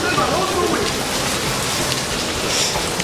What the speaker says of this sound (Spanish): Está jugando la lluvia aquí en Nogales.